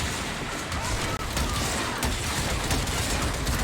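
Dense, continuous gunfire and clattering weapon noise in the Warframe space combat mode Railjack, filling the whole stretch with a broad, busy roar and only one brief dropout.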